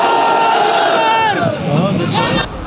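A large crowd at a religious and political rally answers the Naara-e-Takbir slogan call with a loud, sustained unified shout that rises and falls, filling the space with massed voices.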